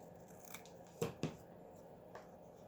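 Scissors snip a playing card box during a craft project, two quick close cuts followed by a faint third, quiet against a soft room hush.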